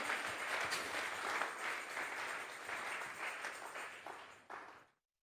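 Church congregation at a Bible study service clapping together in a steady, dense round of applause that runs for several seconds and then cuts off abruptly.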